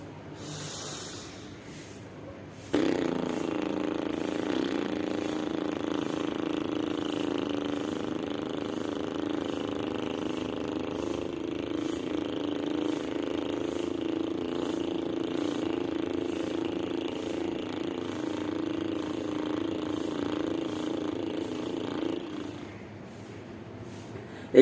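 A person's vibrating lips imitate a scooter engine, a steady buzzing drone held for about twenty seconds after a quiet breath, then cutting off abruptly.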